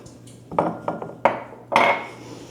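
Homemade granola is mixed with agave nectar in a bowl, and a spoon makes a handful of irregular clinks and scrapes against the bowl, close and moderately loud.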